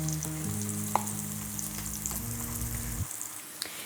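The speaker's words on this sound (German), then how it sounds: "Die brutzeln munter vor sich hin." Tomatoes with smoked paprika sizzle and crackle steadily in a hot pan, a busy frying hiss with small pops, heard up close over a low background hum.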